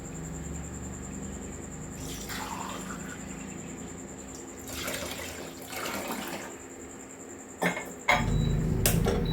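Water is poured from a tumbler into a pressure cooker holding soaked black kavuni rice. It runs in a few splashing bursts with faint kitchen hum between them and metallic clanks near the end.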